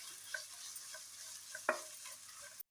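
Masala with pepper powder sautés in a pan for egg dum biryani, giving a faint, soft sizzle with a few light taps and one sharper knock before it cuts off.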